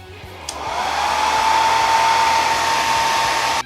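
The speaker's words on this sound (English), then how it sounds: "I'll use a hair dryer to speed it up" A hair dryer blows steadily on a burn hole repair surface during coating refinishing, starting up after a faint tap and then holding a loud, even whir for several seconds.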